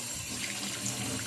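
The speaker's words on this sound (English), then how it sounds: "the next step is to run the cold water tap and then just rinse off" A cold water tap runs in a steady stream to rinse soapy parts from a restored toy transformer, giving a close, even splashing hiss without pause.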